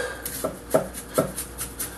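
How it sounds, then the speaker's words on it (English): A knife cutting down through an onion into rows on a board, giving three or four crisp, evenly spaced taps close up, alone without talk. "I cut it like this. Cut them down and make little rows."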